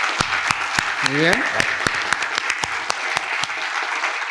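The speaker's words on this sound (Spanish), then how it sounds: "Un aplauso para Josué, yo creo que se lo merece" Applause from a studio audience at a live broadcast youth-vote candidate forum, with sharp, scattered claps at a steady pace, and a man's brief spoken phrase heard over the clapping early on.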